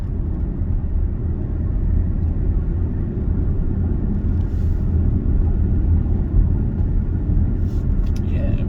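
A 2020 Alfa Romeo Stelvio Lusso TI taken through a fast corner, heard from inside as a steady, loud low road and engine rumble with no change in level.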